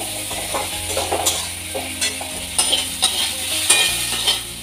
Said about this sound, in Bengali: এবার ওখানে পেঁয়াজগুলো ভালো মতো ভাজা হয়ে গেছে